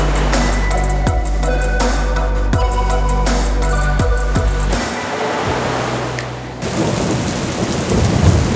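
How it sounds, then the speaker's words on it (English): Rain falls at Étretat in Normandy, France, with rumbling thunder, heavy low booms and crackles over a steady rain hiss, loud and close, shifting partway through to a softer wash of rain. "The way rain follows us everywhere we go"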